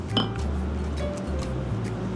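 Cocktail glasses touch in a toast at a historic distillery bar, one bright, short clink near the start over a low, steady room hum.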